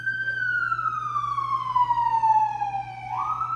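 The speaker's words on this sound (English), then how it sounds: "I'm gonna let these sirens go by" A single siren passes by, its long tone sliding steadily downward and then rising again near the end, fairly clear over a low steady hum with no talk.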